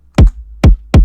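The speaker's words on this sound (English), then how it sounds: "Now for the drums. I have a kick." Three short, punchy synthetic kick drum hits from an electro pop beat made in FL Studio, each a hard, tight thump with a quick decay, spaced evenly and heard alone.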